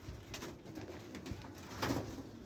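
Several white pigeons coo softly in a loft, a low murmuring burble with a slightly stronger coo near the end, heard faintly over steady background noise.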